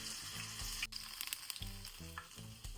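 Crackling sizzle of tempering spices with ginger hitting hot oil, steady and close, with brief sharper pops partway through over a low background hum.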